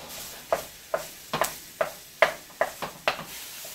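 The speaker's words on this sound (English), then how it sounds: "So we're just going to brown this up in the big old pan." Breakfast sausage browning in a big pan, with a utensil scraping and stirring it in a steady series of crisp clacks about every half second over a soft sizzle.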